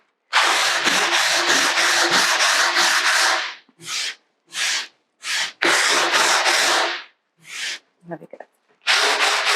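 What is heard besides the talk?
hand sanding furniture finish with coarse sandpaper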